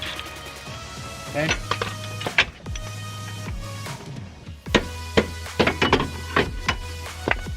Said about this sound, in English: You hit this part at the bottom with a hammer, and it will literally just fall right off.